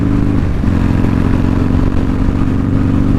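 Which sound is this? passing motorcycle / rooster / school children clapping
passing motorcycle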